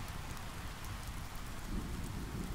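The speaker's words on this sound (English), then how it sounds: "listening to the gentle drumming of the rain on the roof" Gentle rain drums steadily on a shelter roof, a soft continuous hiss with scattered drops tapping, even and unbroken throughout with no voices.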